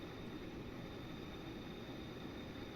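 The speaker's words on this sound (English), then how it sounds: "The helicopter is going to be annoying for a minute." Helicopter passing overhead outdoors, a steady broad engine and rotor roar holding at an even level throughout, fairly faint and distant, with no talk.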